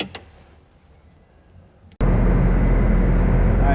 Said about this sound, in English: Alright, so I got the machine started and running